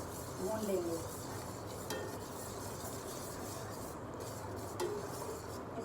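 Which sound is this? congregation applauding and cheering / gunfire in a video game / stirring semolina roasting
stirring semolina roasting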